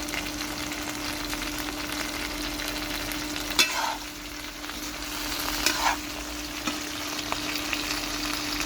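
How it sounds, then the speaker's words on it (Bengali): Whole eggplant pieces, lightly browned, sizzle steadily in hot oil in a pan. The hiss holds even throughout, with a few soft stirring scrapes and no voices. "দেখুন বেগুন হালকা হালকা ভাজা হয়ে গেছে,"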